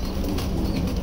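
A home flock of high-flyer pigeons at morning feeding time gives a steady, close mix of soft cooing and fluttering wings over constant ambient noise, with no talking.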